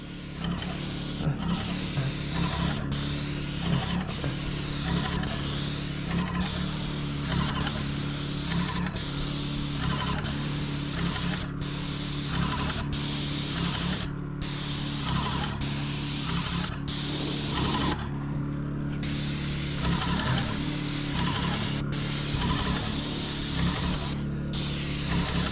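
White spray paint hisses steadily and continuously from a nearby sprayer, the broadband spray running almost unbroken with brief pauses between passes under a low background hum.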